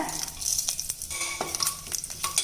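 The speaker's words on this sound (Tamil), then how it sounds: "ஏலக்காய், பிரிஞ்சி எல்லாம் தாளிச்சுக்கிறேங்க" Steady crackling sizzle of whole spices (cinnamon, cloves, fennel, cardamom, bay leaf) frying in hot coconut oil, with occasional stirring scrapes, close up and alone.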